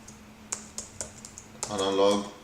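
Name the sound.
typing code on a computer keyboard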